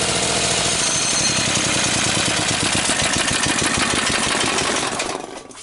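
A small engine runs on the last fuel in its carburetor, a loud, rapid knocking chug that holds steady before sputtering and dying out at the end.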